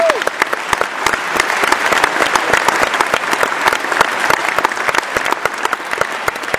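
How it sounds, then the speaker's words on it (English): Audience applause at a jazz orchestra concert at the Barbican, a dense, loud clatter of many hands clapping steadily throughout, with no voices over it. "I think these teachers and directors deserve a nice round of applause."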